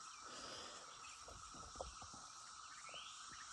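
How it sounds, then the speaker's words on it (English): Cicadas keep up a continuous, faint buzzing drone outdoors in hot weather, with a few soft low rustles underneath. "can't hear nothing for the cicadas."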